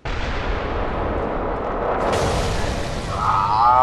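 Heavy cannon fire in the video game Bloodborne: a sustained, loud booming roar that keeps rumbling and swells toward the end, with no talking over it.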